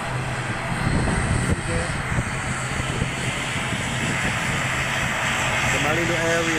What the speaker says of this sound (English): The Malindo Air will be take off from runway 35